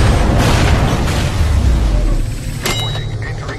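Detonated charges exploding in Borderlands: The Pre-Sequel, a loud sustained deep boom with rumbling debris that fades into lingering crackles and a sharp metallic hit.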